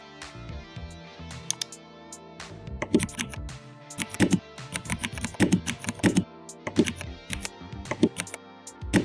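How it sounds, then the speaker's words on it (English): Simulated mechanical keyboard typing sounds played from laptop typing: a rapid, steady stream of sharp, clicky keystrokes in irregular bursts, close and fairly loud, with no voices. "As you type, you'll hear realistic mechanical keyboard sounds"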